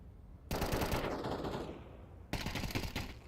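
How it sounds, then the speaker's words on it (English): Rapid automatic gunfire bursts crack loudly and closely in a Counter-Strike match, one long rattling volley that trails off, then a second burst starting after a short pause. "Couple of shots whizzing past JL"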